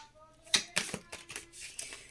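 Tarot cards being shuffled by hand, a run of soft papery slaps and riffles, close and fairly quiet, with a faint tone lingering early on.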